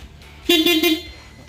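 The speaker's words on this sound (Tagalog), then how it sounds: "Busina." One short, bright car horn honk, close and loud, lasting about half a second over a quiet background.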